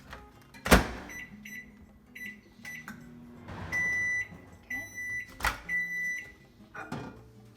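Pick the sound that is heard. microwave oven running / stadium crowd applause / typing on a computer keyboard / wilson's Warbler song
microwave oven running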